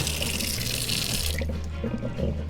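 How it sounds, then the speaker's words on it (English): A kitchen sink faucet runs full as hands are wetted while making spaghetti and meatball dough: a steady, close rush of water for about a second and a half, then cut off, leaving quiet room noise. "I'm gonna turn on the faucet here. This is why I'm by the sink. I'm gonna wet my hands a bit"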